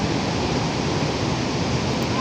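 Water rushes steadily at the Sigerincing (Cigerincing) waterfall in Masurai, Merangin, Jambi, Indonesia, a dense constant roar close by with no break or variation.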